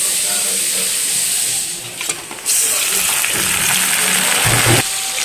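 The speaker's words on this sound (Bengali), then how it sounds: "এখন এর মধ্যে আমি চিকেন দিয়ে দেবো।" Chicken sizzles in a pan over onions already fried with spices, giving a continuous bright hiss with a dip and stirring clatter partway through, fairly close and steady.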